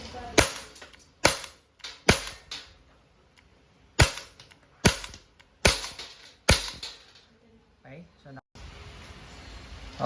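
Umarex Glock 17 Gen 3 dual-ammo airgun firing, about eight sharp, close snapping shots at uneven intervals, each with a short rattle of the action, ending in a brief mechanical clatter; a voice is heard faintly in places.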